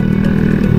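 A motorcycle rides alongside on a road, its engine droning loud and steady, close by, with a low rumbling hum throughout the brief moment.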